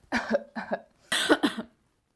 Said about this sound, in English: Obviously, I was coughing.